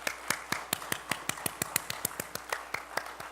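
A church congregation at an early-morning service applauding the youth choir, with quick, evenly paced claps in a steady rhythm, moderately faint in the room.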